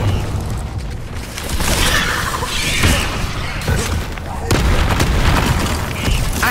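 Bombarda blasting spells explode repeatedly in Hogwarts Legacy, loud booming bursts with shattering crackle recurring every second or so amid constant battle noise.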